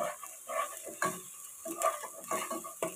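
Garlic and ginger fry in hot oil as a utensil stirs and scrapes the pan in irregular strokes, with faint metallic clinks over a quiet, low sizzle.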